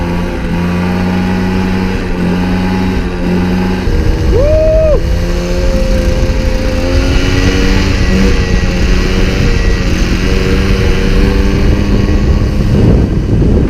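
A 1988 Peugeot 103 MVL moped engine warms up close by, holding a steady, buzzing idle drone with a brief rise in pitch partway through, running alone without talk.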